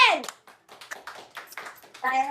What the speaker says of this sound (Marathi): सगळ्यांनी टाळ्या पाहिजे